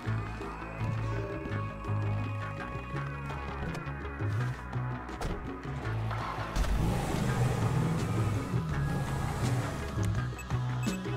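A car driving in GTA 5, its engine droning steadily and then swelling into a louder revving surge as it accelerates, close and continuous, with no talk over it.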